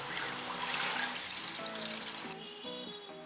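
Milk poured from a container into a pan for kunafa filling cream, a steady liquid pour with splashing that thins toward the end, joined by a few light clinks of utensils.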